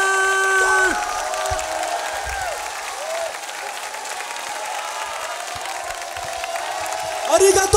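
A crowd at a beatbox battle grand championship applauds and cheers the winner, a steady wash of clapping under a voice, then a sharper burst of cheering and whoops near the end.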